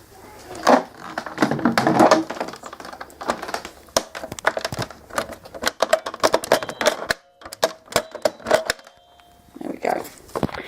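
A VAX carpet cleaner part snaps back into its housing, giving a run of sharp plastic clicks and rattles, loud and close, with a brief pause before a few more taps at the end.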